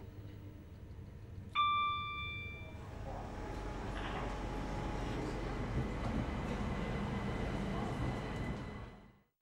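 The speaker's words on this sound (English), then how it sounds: "At the down platform is a class 465 networker en route from Charing Cross to Gillingham." A class 465 Networker electric multiple unit at a station platform on a Charing Cross to Gillingham service: a bright chime rings out, then a steady low rumble and hum of the train builds and holds before cutting off.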